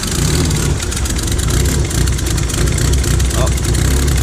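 A Talon car engine with a large exhaust leak runs after a breakdown on a trip to Mexico, a steady, loud, rough rumble heard up close, with a voice talking over it.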